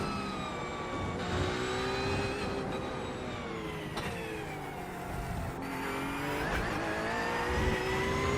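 Race car engine in the iRacing sim at the 24 Heures du Mans circuit, a loud, steady high-pitched whine rising through gears as it accelerates out of a corner, with brief dips at shifts, alone without talk.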